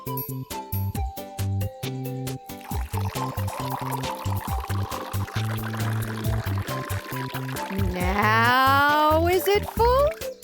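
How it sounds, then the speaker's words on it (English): Water pours into a container with a rising, gurgling pitch as it fills, over music and background sound, louder toward the end. "Squirk, could you pour some water in there for me?"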